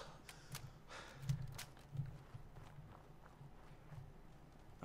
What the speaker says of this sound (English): my dog scares me. His footsteps.